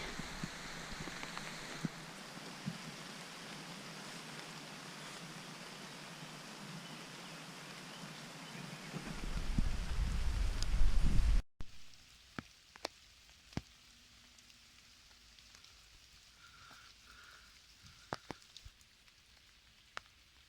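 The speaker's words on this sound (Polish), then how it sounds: "w międzyczasie jak ten deszczyk pada" Light rain falls outdoors during a metal-detecting dig, a steady soft hiss that suddenly drops to a quieter background of scattered, distinct drop taps.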